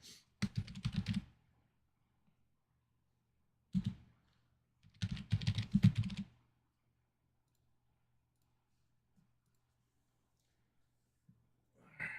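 Someone types on a new computer keyboard in three bursts of rapid, close-up key clicks separated by quiet gaps, with a single faint tap near the end.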